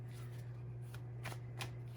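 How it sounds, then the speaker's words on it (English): Tarot cards are shuffled by hand in a quick series of soft riffling flicks, close and fairly quiet, over a low steady hum with no talking. "as I'm shuffling your cards"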